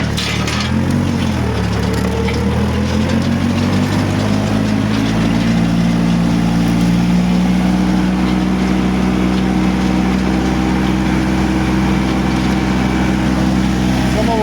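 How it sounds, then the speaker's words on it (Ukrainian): A 33 hp tractor engine pulls a cultivator through a field in fourth gear, a loud, continuous droning rumble that rises in pitch early on and then holds steady for the whole stretch. "Культивіруємо ось таким культиватором."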